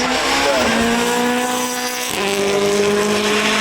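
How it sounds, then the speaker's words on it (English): A rally car, a Hyundai i20 at the Goodwood Festival of Speed, roars past close by, its engine note rising then dropping sharply as it shifts and passes, with tires squealing briefly on the hillclimb course. "But the rally drivers, the rally cars are just extraordinary."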